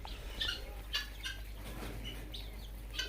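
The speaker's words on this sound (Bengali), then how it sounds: "যেগুলা কোয়েল পাখি দেখতেছেন এগুলা কোয়েল পাখির বয়স আজ এগারো দিন" Eleven-day-old quail chicks chirp in brief high tweets, spaced irregularly and fairly faint, over a constant low background hum.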